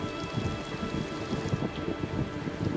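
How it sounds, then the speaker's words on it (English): A violent thunderstorm over Quebec: steady heavy rain hisses throughout while low thunder rumbles underneath, loud and continuous with no voices. "a violent thunderstorm breaks over Quebec"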